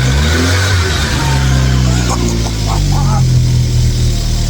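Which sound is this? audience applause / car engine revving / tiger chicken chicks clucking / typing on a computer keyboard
car engine revving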